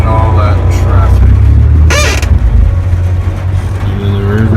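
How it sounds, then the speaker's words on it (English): Cars drive through heavy traffic on a rain-soaked road in Granbury, Texas, heard from inside a vehicle as a loud, steady engine and tire rumble with a brief whoosh of a passing car, while someone talks. "Look at all that traffic."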